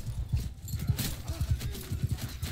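Horses gallop across a battlefield in Mount & Blade II: Bannerlord, a rhythmic, fairly loud drumming of hoofbeats repeating throughout with a brief brighter burst of noise in the middle.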